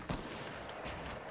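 A sniper rifle shot in the Fortnite video game, a single sharp crack at the start, fairly faint and distant, followed by a steady bed of game ambience with no talk.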